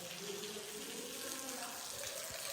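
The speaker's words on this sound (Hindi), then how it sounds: "लो भाई टायर में पानी भरने लग रहा है" Water runs steadily into a tractor tyre being filled through its valve, a Sonalika RX 60 tyre, giving a continuous close hiss and gurgle that lasts throughout with no talk.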